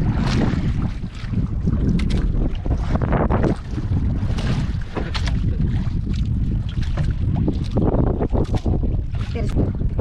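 A boat motor drones steadily over rushing wind and sea water, with voices talking throughout.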